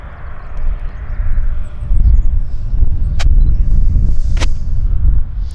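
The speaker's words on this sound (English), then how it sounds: "That's the WestJet 37 taxiing down to the button" A WestJet Boeing 737 taxis at Vancouver airport: a loud, continuous low engine rumble close by, steady throughout, with two brief sharp clicks partway through and no voices.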